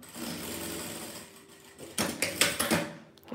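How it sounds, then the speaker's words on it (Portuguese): Domestic sewing machine stitching patchwork fabric squares with a presser foot: a low hum, then a close, fast burst of rattling stitches lasting about a second. "Vou costurar aqui com um pezinho de máquina."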